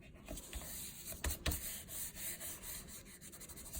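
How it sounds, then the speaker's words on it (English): A finger or cloth rubs oozed glue off a book page pocket craft, making quiet, close scuffing strokes with a couple of sharper taps, alone without talk. "all you gotta do is give it a little rub"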